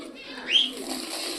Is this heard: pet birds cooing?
yes